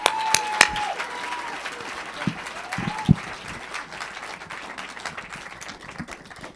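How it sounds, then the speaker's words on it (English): An audience at a poetry slam claps and cheers steadily, a dense wash of applause with a few whoops, filling the room without a break. "Clap for Jerry!"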